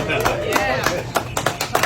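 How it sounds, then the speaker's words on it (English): In a bar, a man claps his hands in a handful of sharp, uneven claps while people talk close by. "Clap your hands,"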